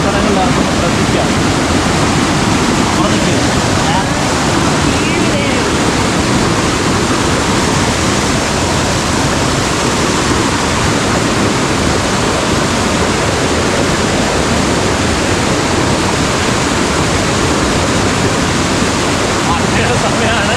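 Paathanpara waterfall in Kerala, swollen in the rainy season, roars as a loud, continuous broadband rush of falling water, close and unbroken throughout.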